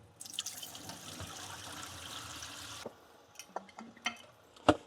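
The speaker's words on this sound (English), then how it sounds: "Going to rinse the nuts once more before they are ready for their spice bath." Black walnuts are rinsed under running water, a steady close splashing stream that stops partway through, followed by scattered drips, trickles and a few sharper splashes and knocks.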